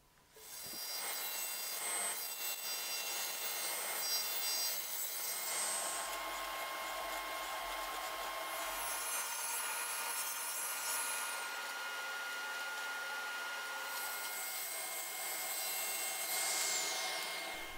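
A hand plane works along wooden timber frame posts in a shop, long rasping shaving strokes repeating close by with short pauses between passes, no talking.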